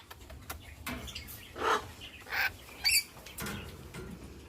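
Cockatiels in a pet shop give several short, bright chirps in quick separate bursts over a low background hum and shuffling, with no one talking.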